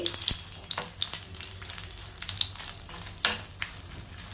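Dried red chillies, around fifteen of them, sizzle and crackle in hot peanut oil for gongura pachadi, a steady frying hiss broken by sharp pops and occasional stirring scrapes.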